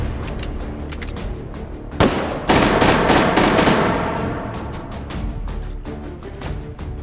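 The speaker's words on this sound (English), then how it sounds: "Quite handy with a fast fire rate gun." Rapid-firing gun in the VR shooter H3VR, a fast stream of loud, close shots with a few heavier booming bursts in the middle, then tapering to quicker single cracks, no talking.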